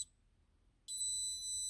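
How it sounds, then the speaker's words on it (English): FlexSafe interchangeable cable fingerprint lock giving a long, high-pitched electronic beep after a short chirp and a pause, clear and close, held steadily to the end. "a longer beep, meaning that my thumbprint has been now accepted"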